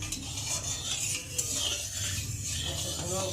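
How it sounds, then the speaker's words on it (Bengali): A metal spatula scrapes and spreads oil around a hot wok, making a continuous close rasping stir with a soft sizzle underneath and no voices. "আর এখন আমি খুন্তি দিয়ে তেলটা ভালো করে কড়ার চারিগালায় লাগিয়ে দেবো।"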